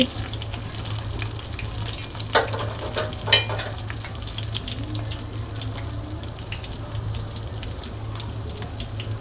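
Chicken pieces fry in hot oil in a pan, a steady close sizzle with a few louder crackles and stirring clatters early on, with no talk.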